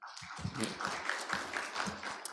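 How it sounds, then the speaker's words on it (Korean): Audience applause for a speaker at a Korean academic presentation session on fair trade research, a steady wash of clapping running throughout, fairly close and loud, with a brief voice cutting in. "박수 부탁드리겠습니다"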